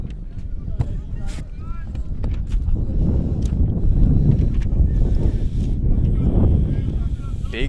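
A strong gust of wind buffets the microphone at an outdoor high school varsity baseball game, making a steady, loud low rumble that runs the whole time with a few faint scattered higher sounds.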